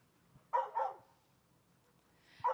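Dogs at an animal welfare shelter bark in short bursts, a quick double bark followed after a pause by another single bark, moderately distant with no speech.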